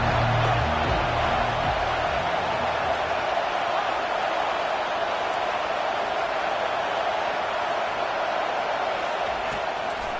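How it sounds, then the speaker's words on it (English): Stadium crowd at a college football game roars on third down, a dense, loud, sustained wash of noise that holds steady throughout, with faint voices buried under it at the start. "this crowd is tearing the lid off this place"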